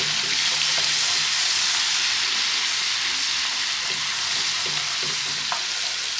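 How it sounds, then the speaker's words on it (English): Spice paste for an Indian base gravy, about two and a half spoonfuls including ratanjot, fries in hot oil with a steady loud sizzle while a spoon stirs it, scraping the pan now and then. "You're just going to stir that around to get rid of the raw taste."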